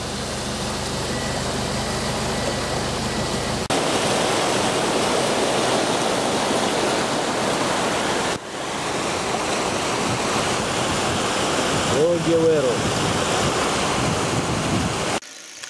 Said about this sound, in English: This is the Roger Wero having lots of water.